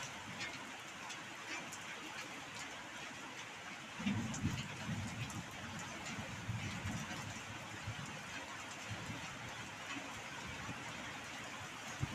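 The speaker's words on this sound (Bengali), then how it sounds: "খালি তুমি শোনো বৃষ্টির আওয়াজটা শুনো" Heavy rain falls steadily as a continuous broadband wash, swelling a little louder partway through, with no voices and a faint low rumble beneath.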